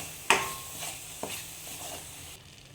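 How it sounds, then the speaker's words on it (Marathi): Shev bhaji being stir-fried with salt in a pan: a soft steady sizzle with a few spatula scrapes and knocks against the pan, close and moderately quiet. "सगळं एकत्र परतून घ्यायचं आहे"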